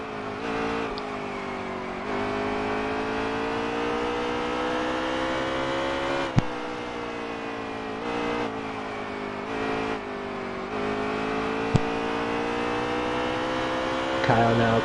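Stock cars racing at Bristol roar continuously with a loud, sustained engine drone that rises and falls slightly in pitch, over a commentator's voice.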